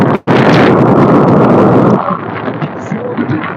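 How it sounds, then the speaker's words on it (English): Heavy, roaring wind buffets the microphone for about two seconds, then eases into a lighter, uneven rumble. "Man, it is super windy."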